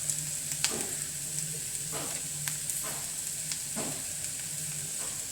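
Onions frying in a pan for a fish curry, a steady moderate sizzle with a few soft stirring scrapes and no talking.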